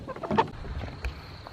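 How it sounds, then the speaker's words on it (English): Chickens in a small coop in a pasture cluck softly in short, scattered bursts over a low background rumble at dark, no talking. "The chickens are right down there in the pasture in their little coop"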